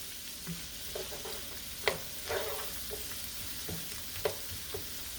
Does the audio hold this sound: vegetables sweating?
yes